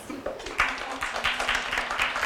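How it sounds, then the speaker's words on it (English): Audience applause welcoming a speaker onto the stage at a campus leadership talk: a steady wash of scattered hand claps from a sizeable crowd, moderately loud and sustained throughout. "Please join me in welcoming Gavin with a round of applause."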